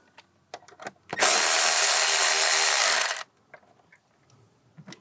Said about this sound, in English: Loosen up both of those clamps.